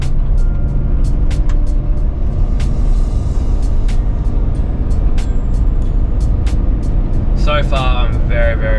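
A vehicle accelerates to 80 km/h, a loud, continuous engine and road roar heard from inside, with scattered sharp ticks and clicks and a brief chirping near the end.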